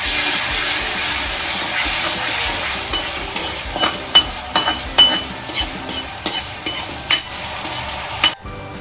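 Ginger garlic paste fries in a pan with onions, a dense steady sizzle joined later by sharp clinks and scrapes of a spoon stirring, loud and close with no speech.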